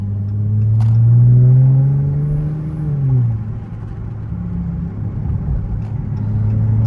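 A V6 Dodge Charger burbling loudly through Atlanta traffic, its deep exhaust rumble rising in a brief rev, then settling back to a low, throbbing idle-like drone close by.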